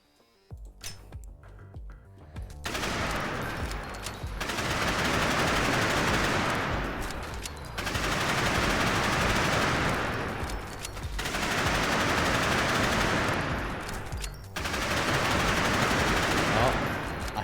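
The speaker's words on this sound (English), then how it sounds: "Penetrating missiles." Penetrating missiles in a video game fire as loud, rapid bursts of blasts in several long sustained volleys, separated by short breaks.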